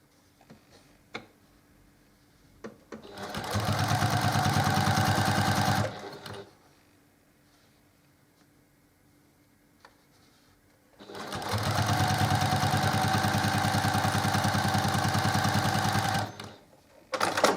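A sewing machine stitches a quarter-inch quilt seam in two steady runs of about three and five seconds, separated by a quiet pause. The motor whirs fast and even, with a rapid needle clatter close by.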